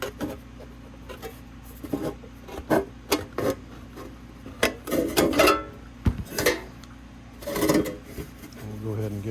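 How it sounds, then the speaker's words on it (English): Straight snips cutting diagonal pieces from a 6-inch gutter metal miter template, close up, giving scattered crunchy bites and scraping rasps in irregular bursts. "From here, we're going to go ahead and cut these diagonal pieces."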